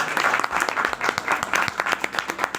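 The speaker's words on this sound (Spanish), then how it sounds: "Aplausos, por favor." An audience gives steady applause at a book launch as the author is introduced. Dense, moderately loud clapping with distinct individual claps runs throughout, with no one speaking over it.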